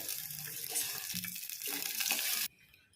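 Water poured into a hot upma tempering in a pan, giving a steady close sizzle and rushing splash that runs for a couple of seconds and then cuts off abruptly to near quiet.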